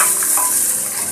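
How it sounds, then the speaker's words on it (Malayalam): Small onions sautéing in hot oil in a pan for drumstick sambar, a bright steady sizzle with faint stirring scrapes, close up and with no talk. "ഇത് നമുക്കൊന്ന് നല്ലതുപോലെ വഴറ്റി എടുക്കാം."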